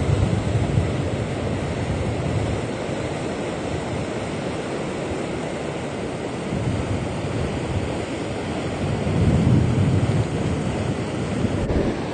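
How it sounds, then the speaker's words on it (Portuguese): Powerful water rushes down at the Jati dam on the northern axis of the São Francisco river transposition in Ceará's sertão, a loud continuous roar with gusts of wind buffeting the microphone and no talking. "Pressão d'água, a força dessas águas descendo, ó."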